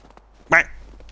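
A single short duck quack sounds in the Medieval Dynasty video game, close and clear above quiet ambience, with faint talk around it.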